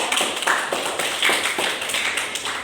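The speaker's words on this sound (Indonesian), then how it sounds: "kita berikan aplaus kepada yang sudah" A classroom audience applauds after a group presentation, giving a short run of scattered, moderately loud hand claps with no talking over them.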